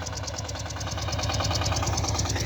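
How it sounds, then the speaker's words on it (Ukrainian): A Shifeng 244 mini tractor engine idling with a steady, rhythmic knocking chug, moderately loud and close. "Ну що, заводимо трактор наш."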